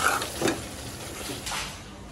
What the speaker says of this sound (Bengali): এটা আর একটু ভাজা ভাজা করবো